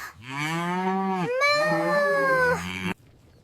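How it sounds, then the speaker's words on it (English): A single long, drawn-out cow moo, loud and close, with a slight rise in pitch partway through before it cuts off. "The cow says moo."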